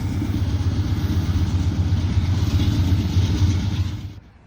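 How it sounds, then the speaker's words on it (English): A GE AC44CWCTE diesel locomotive serves as the rear distributed power unit on a long southbound freight train, giving a steady, loud low rumble that holds evenly and then drops away sharply near the end. "Bringing up the rear is a GE AC44CWCTE as DPU. Heavy horsepower for a long run south."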